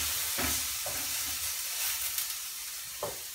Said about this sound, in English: Let me just flip this burger.